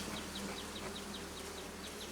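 Honey bees drone steadily in an open hive during a May inspection, a dense continuous buzz close by with small wingbeat surges rising and falling, and no voices.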